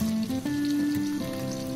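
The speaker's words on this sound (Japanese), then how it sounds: "生地に火が通り肉がカリッとするまでしっかり焼きたいと思います" Okonomiyaki batter and meat fry on a hot griddle with a steady, close sizzle and crackle. Faint tonal hum sits underneath throughout.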